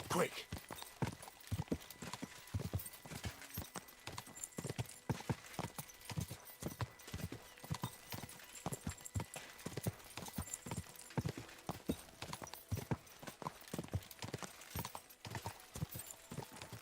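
Horse hooves clip-clopping in Kingdom Come Deliverance 2, a fast, steady galloping rhythm of sharp hoof strikes running the whole time, with an occasional whinny and voices speaking over it.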